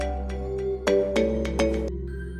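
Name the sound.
phone ringing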